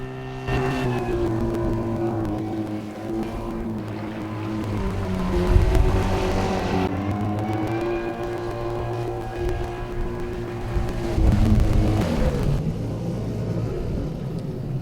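A 1952 Johnson outboard engine runs steadily close by, a droning motor hum with a rough, slightly uneven idle that swells and dips a few times, with no voices over it.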